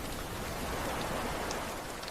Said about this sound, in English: Rain shimmered across the rocks below